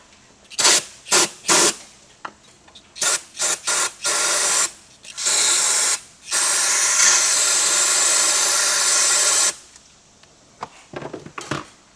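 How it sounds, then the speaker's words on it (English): A cleaner spray nozzle hisses in a series of short bursts over a 6.7 Powerstroke engine's pump, then one long sustained spray of several seconds, followed by a few faint quieter spritzes. "and then we'll spray it again"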